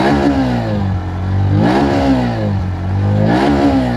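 Engine of a 2026 Bajaj Pulsar NS125 motorcycle revving near and loud, climbing in pitch three times in rhythmic bursts with brief drops between, no voices.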